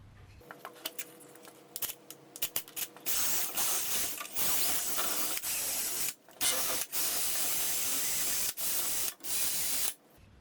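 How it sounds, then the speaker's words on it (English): A wire wheel scrubs rust and grime off bare metal on a 1964 AMC Rambler American during a motor mount repair, a loud steady grinding hiss running in long bursts with brief pauses and short taps before it starts. "I got to basically wire wheel all this, get it all cleaned up"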